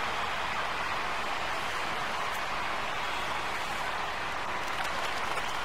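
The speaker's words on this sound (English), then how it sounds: "these Philadelphia fans are sure cheering their squad" Broad, steady roar of a crowd cheering at an ice hockey arena in the NHL '96 video game, a continuous hiss-like wash of noise at moderate level with no distinct voices.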